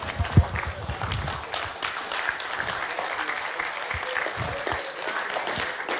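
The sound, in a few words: audience clapping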